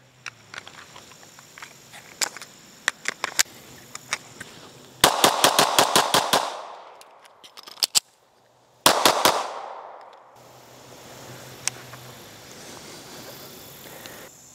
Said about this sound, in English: So we'll do some rapid fire shots.